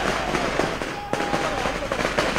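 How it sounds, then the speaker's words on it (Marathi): Firecrackers pop and crackle continuously outside the IMAX cinema in Wadala, Mumbai, amid a large crowd, with bursts of sharper cracks scattered through a noisy background. "फटाक्यांची आतषबाजी करत या ठिकाणी उद्धव ठाकरेंचं स्वागत होत आहे।"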